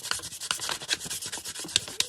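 Quick rhythmic rubbing and scratching strokes, close and steady, as sandpaper is worked back and forth over the hard surface of a polymer clay bangle.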